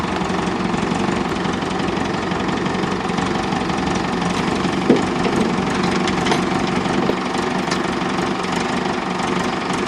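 A 1986 Pontiac Parisienne's engine runs on its first start with a steady, loud, rough idle and a faint knocking texture, heard up close without talk.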